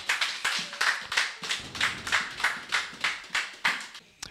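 A church congregation claps in a steady rhythmic beat, about a dozen sharp hand claps spaced evenly, moderately close and alone without talk.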